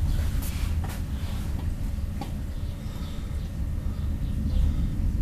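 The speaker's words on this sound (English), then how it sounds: "Can you guys hear the thunder?" Low distant thunder rumbles steadily outdoors at a Stonehenge replica in Texas, a faint continuous roll with occasional soft swells under a light background hiss.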